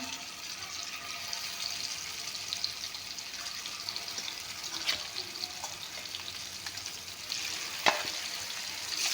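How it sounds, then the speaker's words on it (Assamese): Steady, fairly quiet sizzle of fish frying in hot refined oil in a wok, a constant crackling hiss with a few sharper pops scattered through. "মাছখিনি ভালকৈ ভাজি ল'ম"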